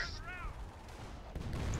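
Rapid gunfire from the World War II strategy game Company of Heroes during the Carpiquet airfield battle near Caen, a dense burst of shots and crackling under a steady background of game noise, with voices talking over it.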